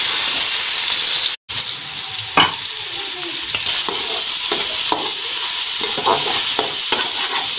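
Chopped onion with cumin sizzling steadily in hot oil left over from frying okra, a continuous loud hiss interrupted by a brief cutout, with occasional scraping stir clicks from a spoon against the pan.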